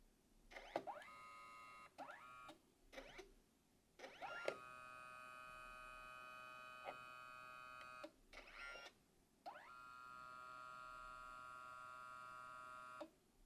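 Polaroid Hi-Print 2nd Gen photo printer working through a print, quiet whirring motor passes with steady humming tones, broken by clicks and pauses between layers, heard alone.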